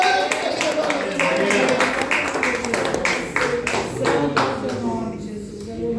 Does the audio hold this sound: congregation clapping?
yes